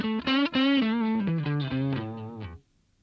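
An electric guitar plays through a Super Reverb amp with an Ownhammer CTS cabinet package using an Alnico speaker, a few sustained, slightly distorted notes stepping downward before cutting off, heard alone.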